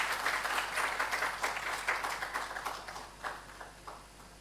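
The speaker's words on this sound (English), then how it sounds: "a bigger round of applause for Dr. Daniel" Conference audience applauding steadily, many hands clapping in a sustained round that gradually thins and fades toward the end.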